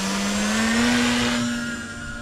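The electric motor of a Tangent Kult Acro E glider runs up at full throttle, a loud, close, steady whine that climbs slightly in pitch and then holds for about two seconds.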